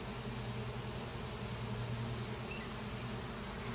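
A honey bee swarm drifts overhead near a peach tree, a faint, continuous, even buzzing hum from many bees with no talking.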